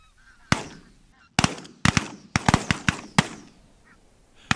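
Geese honk during a morning of goose decoying by wildfowlers: a series of loud, sharp bursts, some close together in pairs, separated by quiet gaps with no talk.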